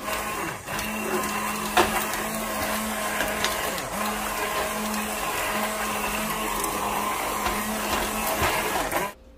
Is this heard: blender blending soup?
yes